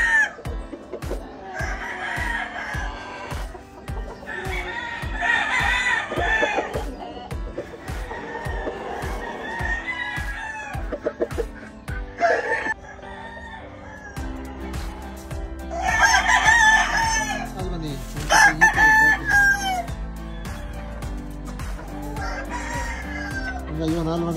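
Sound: rooster crowing

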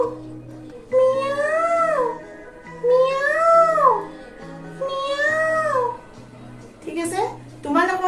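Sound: voice imitating a cat's meow

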